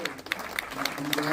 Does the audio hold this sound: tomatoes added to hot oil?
no